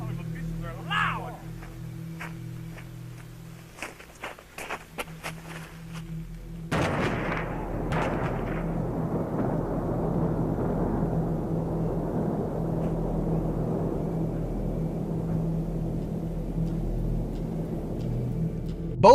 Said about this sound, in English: a second explosion sends another shockwave across the ground